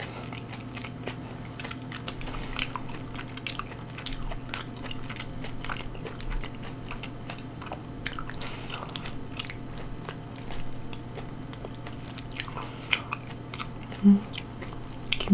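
Up-close mukbang chewing of kimchi with fermented skate and boiled pork, with soft, irregular crunches and wet bites repeating over a quiet background.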